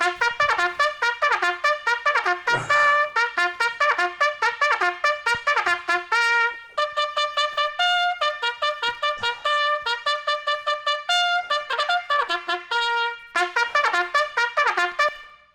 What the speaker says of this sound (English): Thank you, snooze alarm.